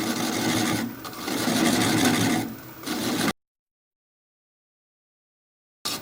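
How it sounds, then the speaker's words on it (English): Wood lathe turning a tri-corner bowl at slow speed, around 300 rpm, with a steady, close rasping scrape of the tool on wood for about three seconds before abrupt silence and a brief return at the end. "Slow the lathe down, about 300 now."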